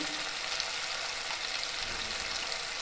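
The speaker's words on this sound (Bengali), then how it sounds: "মশলা আবার মোটামুটি ভাজা হয়ে গেছে, কাঁচা গন্ধটা চলে গেছে টমেটোর" Spice masala with tomato frying in a pan for a green banana kofta curry: a steady, soft, even sizzle that holds without pause, with no voices over it.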